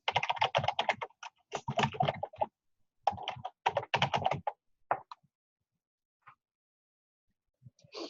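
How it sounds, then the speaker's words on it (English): Quiet bursts of typing on a computer keyboard as a username and password are entered, with short gaps between runs of keystrokes and a few isolated taps near the end. "At this pop-up window, I'm going to type in my username and password."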